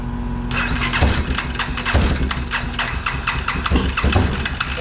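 A Warrior's engine cranks and sputters, struggling to catch with rough, uneven bursts that repeat across the clip, loud and close with no talk over it.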